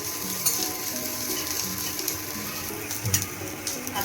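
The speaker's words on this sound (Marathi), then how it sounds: "नंतर गॅसवर चांगले परतून घेऊया." Garlic, ginger and onion sautéing in a pan on a gas stove, a steady soft sizzle with occasional light clinks of a stirring spoon, close and without talk.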